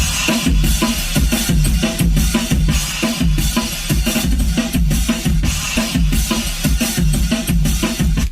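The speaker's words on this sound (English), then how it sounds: "So you can hear there's that's a fairly typical breakbeat." A punchy breakbeat drum loop repeats steadily, with crisp snare hits and kick drums in a syncopated, busy rhythm, loud and up front.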